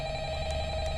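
A telephone rings in the Five Nights at Freddy's video game, played on PS4, with a steady tonal ring that holds through the whole second and has no speech over it.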